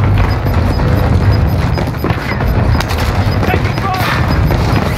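Call of Duty Warzone firefight: dense, continuous gunfire with booms and impacts layered together at a loud level, a voice talking over the shooting.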